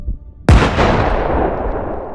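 A single sharp, loud blast from a bomb dropped by a drone onto soldiers in a war zone hits suddenly after near silence, then rumbles and decays over the next second and a half.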